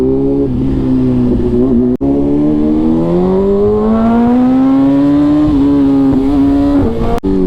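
A BMW S1000RR superbike engine revs hard and close, its pitch climbing smoothly and holding high in a continuous loud roar with two brief gear-change dips.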